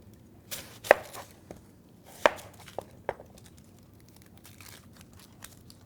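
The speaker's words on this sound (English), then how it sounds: "I'm going to go ahead and cut this before I cut the watermelon." A knife slicing an onion thinly on a cutting board, a handful of crisp, irregular chops with quiet pauses between them, close and fairly soft.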